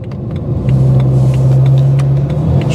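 A BMW 335d mono turbo car on wide rear tyres spins its rear wheels, giving a loud, steady engine drone with a sustained tonal whine and rough rumble running the whole time, alone without voices.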